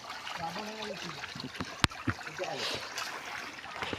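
Water running nonstop through an open U-shaped channel that brings it from above to a house beside an areca nut orchard in the Konkan countryside, a constant trickling rush with a sharp knock midway and a person talking over it.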